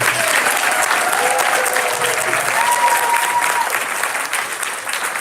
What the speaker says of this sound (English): Give them one more loud round of applause